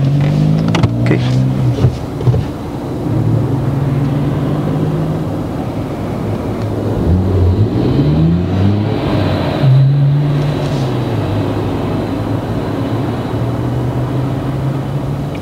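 A car pulls away in first gear during a driving test, its engine humming and rising in pitch with a couple of shifts, steady and close throughout.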